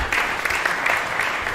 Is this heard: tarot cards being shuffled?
no